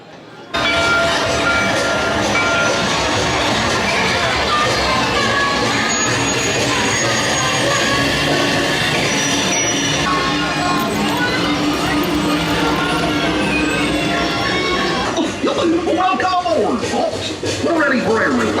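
A train ride at Disney's Hollywood Studios theme park rumbles and clatters along steadily, with voices talking throughout over the rolling mechanical noise.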